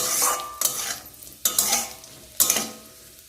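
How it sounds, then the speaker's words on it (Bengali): Cashews and raisins frying in a pan, a loud continuous sizzle broken by three sharp scraping stirs of a spoon at regular intervals. "দেখলে কাজু আর কিশমিশটা ভেজে হয়ে গেছে, তুলে নিই।"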